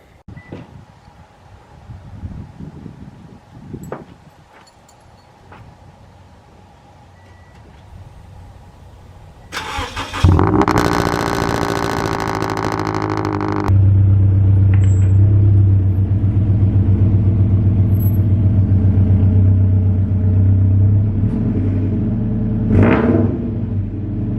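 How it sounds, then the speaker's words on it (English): A cold start of a Scion FR-S / Toyota 86 / Subaru BRZ sports car: after quiet ambient noise, the engine fires with a loud flare, then settles into a steady, loud, close idle with a brief rev blip near the end. "Now it's time for a cold start."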